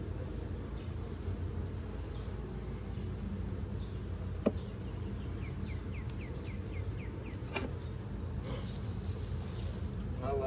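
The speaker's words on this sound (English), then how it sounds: "A few bees there, but they're not." Bees buzz around the frames of a nine-frame beehive, a steady, dense outdoor hum that runs unbroken throughout, with a few faint clicks and no talking.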